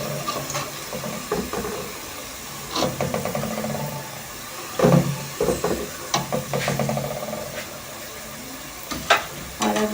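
Onions browning in a pan for chickpea biryani sizzle softly and steadily, with occasional louder stirring scrapes and clinks breaking through the quiet fry.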